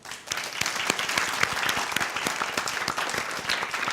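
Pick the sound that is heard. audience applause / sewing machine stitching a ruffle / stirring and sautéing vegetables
audience applause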